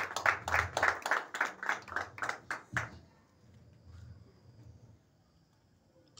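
A church congregation clapping in a steady rhythmic beat, about ten firm claps at an even pace, then stopping abruptly, followed by a low room murmur.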